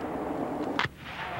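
A single sharp rifle shot cracks out on an army basic training firing range, loud and close against steady outdoor background noise.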